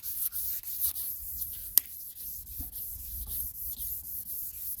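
Someone wet sands the hull of a 1996 Sea-Doo GTI by hand with a soft, steady back-and-forth rubbing, quiet and close, broken by one brief tap.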